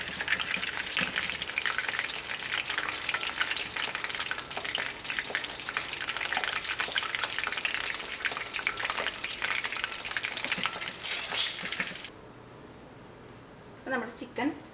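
Chicken pieces fry in hot oil for a Kerala chicken masala, a loud continuous sizzle and crackle with occasional stirring, cutting off abruptly near the end before a brief clatter.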